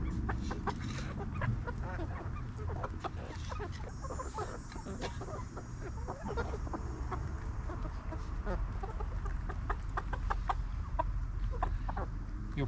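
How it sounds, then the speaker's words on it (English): Chickens cluck repeatedly in a homestead coop, with overlapping short clucks and calls from several birds close by, with no one speaking. "You're probably the lightest chicken here."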